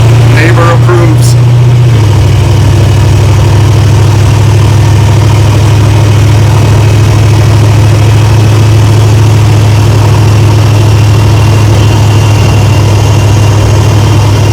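A 1947 Ford hot rod engine idles steadily, with a loud, constant low rumble and a slight shift in pitch early on, close to the car.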